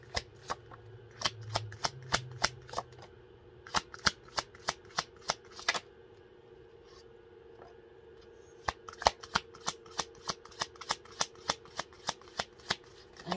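Two decks of playing cards are shuffled together, crisp repeated riffles and bridges in quick bursts with short pauses between, close and fairly quiet, no talking.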